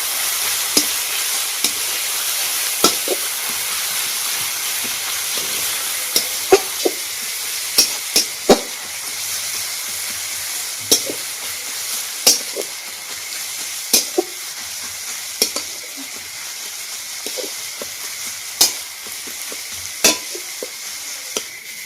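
Onions frying in a pan and being stirred until they turn brown, a steady hissing sizzle with regular sharp scrapes and clicks of the spoon against the pan, alone without voices.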